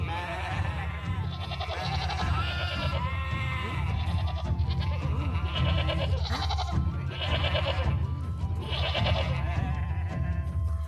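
Goats bleat repeatedly aboard a 17th-century ship, with several overlapping nasal cries in an irregular rhythm over a constant low rumble of background noise.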